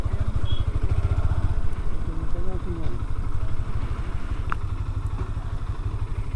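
A motorcycle engine idles close by with a steady, low, throbbing chug at Shahpuri Island near Cox's Bazar, with slight rattles on top and faint voices in the background.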